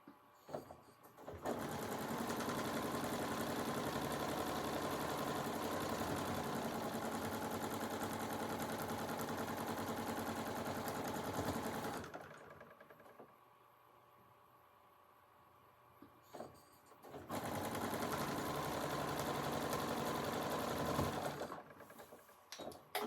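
A sewing machine stitches a row of a quilt block, running in a steady, close, buzzing whir for about ten seconds, pausing briefly to a low hum, then whirring again for several more seconds.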